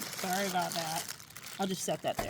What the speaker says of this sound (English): Sorry about the crunchy noise of the bag.